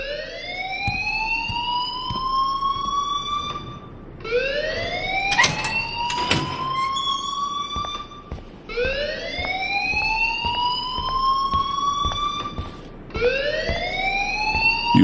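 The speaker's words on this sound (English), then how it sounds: "please turn off that alarm since that's your job." A school fire alarm in Life is Strange wails loudly in repeating rising sweeps, each lasting about four seconds. Brief sharp clicks and knocks sound between the sweeps.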